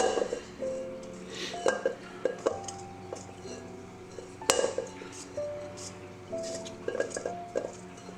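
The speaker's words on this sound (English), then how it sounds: "go down to the bottom and mix it up and get all the parts that the machine" A spatula scraping and knocking around the bottom of a mixer bowl of cheesecake batter, with irregular close clinks and scrapes of utensil on bowl while someone talks throughout.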